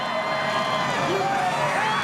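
A crowd at a NASCAR Nationwide Series race cheers a winner's backflip, with a dense, continuous roar and whoops, partly under a commentator's voice.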